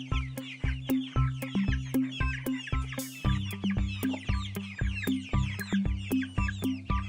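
A hen and her chicks cluck in a farmyard, with a steady run of short, close clucks and peeps repeating in an uneven rhythm and no voices over them.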